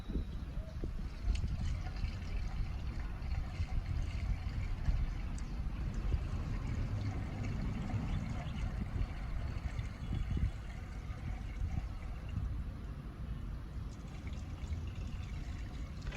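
Liquid pours into and spills out of the leaking fuel tank of a Yamaha YZ250 motorcycle under rebuild, a steady close-up splashing trickle that runs on without a break.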